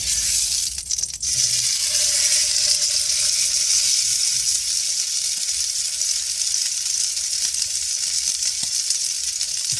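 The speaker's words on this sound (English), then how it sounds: "I need to sear it." A piece of venison sears in a skillet inside a van, giving a loud, continuous close-up sizzle that holds steady from start to finish.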